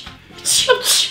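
A single sharp sneeze bursts out up close, with a short breath before it and a quick second burst after, among girls chatting indoors.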